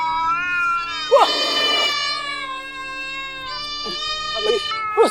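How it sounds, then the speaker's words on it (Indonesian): Several cats meow in overlapping, drawn-out wails and yowls, fairly close, with a brief burst of louder caterwauling early on and a few more calls near the end. "Banyak banget kucing."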